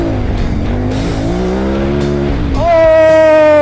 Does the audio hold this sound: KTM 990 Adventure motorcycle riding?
yes